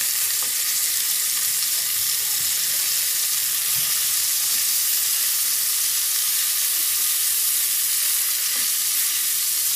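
Chicken tikka frying on a high flame, a steady close sizzle with faint crackles throughout, no voices.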